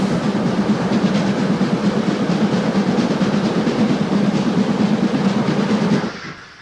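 Steam locomotive 038-382 standing at Freudenstadt station, a steady loud rumbling and hissing with a rhythmic rail-like clatter that holds evenly for six seconds before cutting off abruptly.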